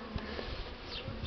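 Buckfast honey bees hum around an open hive while a nucleus colony is being worked, a dense close buzzing with individual bees droning past the microphone.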